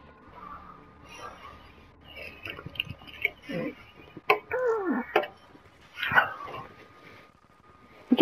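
A puppy barks and whimpers in the video game Call of Duty: Black Ops III, several short yaps scattered over the stretch amid game sounds and faint talk.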